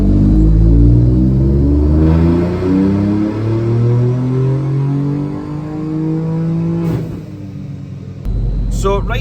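Turbocharged Ford Fiesta engine revving hard and loud, its pitch climbing, before a sharp blow-off valve whoosh near the end and a brief renewed rev.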